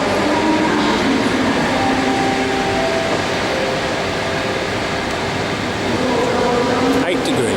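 A train stands at a station in Lviv, filling the air with a steady mechanical hum and rumble, loud and continuous, with a brief metallic clunk near the end.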